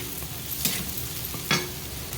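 Fenugreek leaves and onion frying in oil in a pan for a Telugu egg fry, a soft steady sizzle with two brief louder stirring scrapes, close and fairly quiet, no voices.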